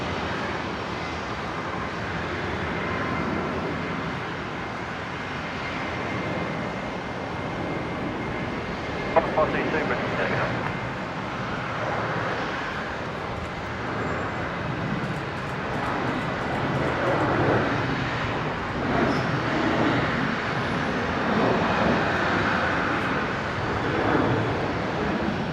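Military transport aircraft, C-130J and A400M types, arrive at Brisbane International Airport, giving a steady, broad engine roar that swells and holds for about 25 seconds, with no breaks.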